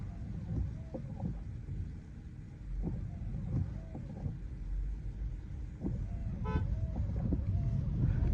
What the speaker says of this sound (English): The car was honking behind us.